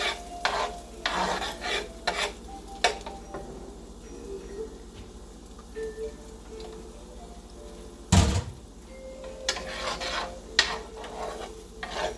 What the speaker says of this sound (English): I'm going to add the red onions and the green onions, the white part of the green onions, to our pan and give them a nice saute